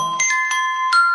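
Short Oppo phone ringtone excerpt: a few bright chime-like tones struck in quick succession over a sustained ringing note, clear and close with no speech.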